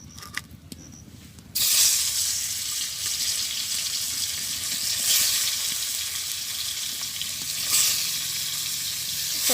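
Marinated fish dropped into a hot wok in a village kitchen: after a couple of quiet seconds with light clinks, a loud, steady sizzle bursts in and continues, swelling slightly at moments.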